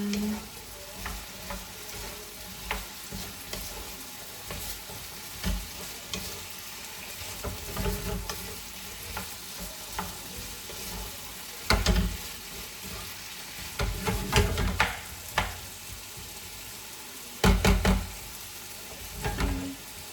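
Breakfast frying in a pan and being stirred, with soft scraping and sizzle throughout and louder bursts of stirring clatter near the end.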